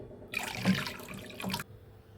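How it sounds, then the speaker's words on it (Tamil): Water pours steadily into a pan for about a second and a half, close by, splashing as it fills, with quiet room tone before and after. "நான் ரெண்டு கப்பு தண்ணி வந்து ஊற்றி வைக்கிறேன்"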